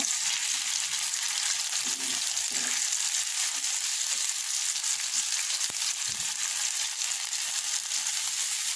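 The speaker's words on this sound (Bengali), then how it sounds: "এখন আমি এই যে রসুন মরিচ ধনে পাতা বেটেছিলাম এটাকে দিয়ে দিলাম এটাকে দিয়ে একটু কষিয়ে নেব" Ground garlic, green chilli and coriander leaf paste sautés in a pan with a steady, moderate sizzle, joined now and then by soft knocks and scrapes of stirring; nobody speaks.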